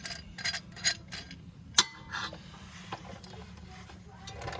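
Metal ratcheting and clicking from a C-clamp being loosened on a rear brake caliper of a Lexus GX470, irregular taps and ticks close by with one sharp click in the middle.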